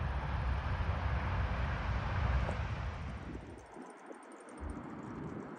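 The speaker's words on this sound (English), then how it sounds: "There's the train." A train rumbles past near a bicycle path along the Rhine between Krefeld and Düsseldorf, a steady broad roar that fades partway through, with wind noise over the microphone.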